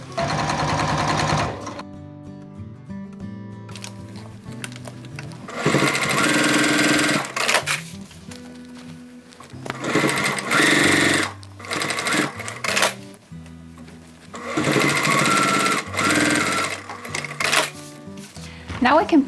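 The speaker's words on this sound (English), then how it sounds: "I might as well baste them in place, so just so very, very close to the edge." A sewing machine bastes bag panels very close to the edge, stitching in several close, rattling bursts separated by short pauses, with some quieter handling between runs.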